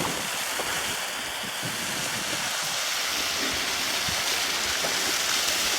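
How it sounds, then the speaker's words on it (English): A waterfall in Shirley Canyon, Olympic Valley, roars steadily and loudly, a continuous full rushing wash with no voices. "Look at that waterfall."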